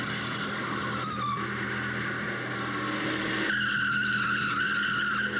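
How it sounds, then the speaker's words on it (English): Buick GNX drag racing a twin-turbo Callaway Corvette, with loud, continuous engine roar and tire squeal holding steady and rising in pitch toward the end, close and dominant with no talk. "The GNX handily outpacing the twin-turbo Corvette in 4 out of 4 runs"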